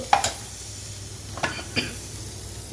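Coriander leaves and grated coconut being stirred into a potato palya in a hot pan, with a soft sizzle under a few short scraping stirs of the spoon.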